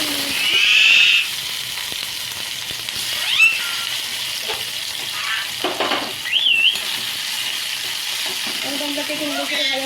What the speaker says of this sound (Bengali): টমেটোটাকে একটু নেড়ে চেড়ে ভালো করে নিচ্ছি